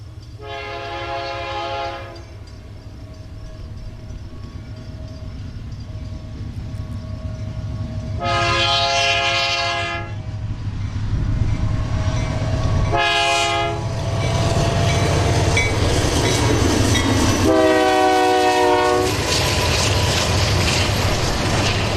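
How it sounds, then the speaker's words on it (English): Trains rolling through Illinois farm country on the former Santa Fe line, a steady loud rumble of cars passing with several long horn blasts sounding one after another, no talk. "both freight and passenger trains fly through the Illinois farm country"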